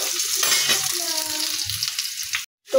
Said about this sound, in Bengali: এই দেখো মাংস কষানো হচ্ছে